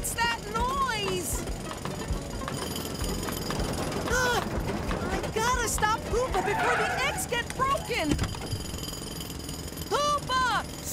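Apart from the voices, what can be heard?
cartoon drill running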